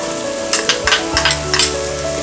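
French beans, green peas, capsicum and carrot hit a hot pan with softened onion and tomato for sorghum pulao, a steady sizzle broken by several quick stirring bursts, close and fairly loud.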